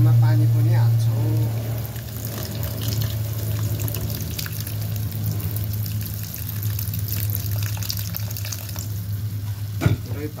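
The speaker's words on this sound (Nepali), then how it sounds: "अब हामी थोरै मात्रामा पानी पनि हाल्छौँ।" A little water pours into a cooking pot of softened tomatoes for buff shapale, a brief splashing stream over a steady simmering hiss, followed by a low hum and a single sharp knock near the end.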